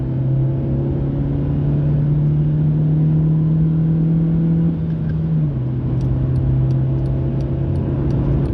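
Ford Fiesta accelerating onto a motorway, heard from inside the cabin as a loud, steady engine drone that shifts pitch once mid-way, with no talk.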